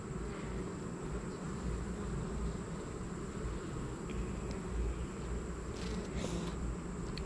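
Honeybees buzz during a hive inspection, a dense, constant hum close to the microphone that stays even and unbroken throughout.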